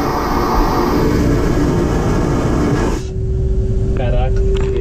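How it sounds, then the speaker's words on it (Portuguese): An airplane lavatory vacuum toilet flushes on a flight from Vitória to São Paulo. A loud, close roaring whoosh lasts about three seconds and then cuts off abruptly, leaving a low cabin hum and a faint steady tone. "E aqui é descarga. Lembra que eles falam que é de vácuo?"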